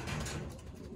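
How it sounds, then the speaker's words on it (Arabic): A homing pigeon coos softly and low, a short muffled burst heard close by with no other sounds. "طبعا هذا طير زاجل"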